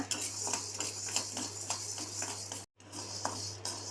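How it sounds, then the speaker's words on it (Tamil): Urad dal dry-roasting in a pan, with a steady patter of light clicks and taps as lentils are stirred and scraped against the metal, over a constant low hum, with a brief dropout near the end. "இப்போ உளுந்தம்பருப்பு போட்டு வறுத்துக்கலாம். பொன்னிறமாக வர வரை வறுத்துக்கோங்க."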